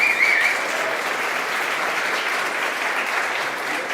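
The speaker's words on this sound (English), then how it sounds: "join me for a round of applause for this gentleman" A crowd applauds steadily and loudly throughout for a presenter at a live event, a dense, even wash of clapping with no pauses.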